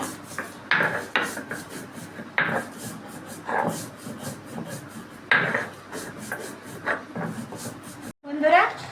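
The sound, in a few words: grinding roasted spices on a grinding stone (shil)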